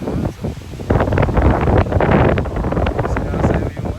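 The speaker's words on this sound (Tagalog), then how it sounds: "Ayun, lakas ng hangin, mga lods, oh." Strong gusting wind buffets the microphone outdoors during a tornado alert, with trees swaying nearby; a loud, steady roar with rising gusts, and a person talks over it.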